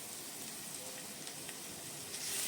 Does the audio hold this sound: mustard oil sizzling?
yes